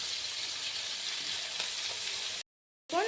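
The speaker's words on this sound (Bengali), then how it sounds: "এবার আমি এগুলো উল্টে আরেক সাইডও ভেজে নেবো" Continuous crackling sizzle of rohu fish frying in hot oil, steady and close, cutting off abruptly near the end before resuming briefly.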